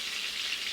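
Floured, spiced chicken fries in a pan with a steady, close hiss of sizzling oil that stays even throughout, with no talk.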